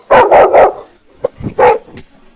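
A dog barks three times in a quick, loud burst close by, then gives a softer yip and a fourth bark after a short pause, with no one talking.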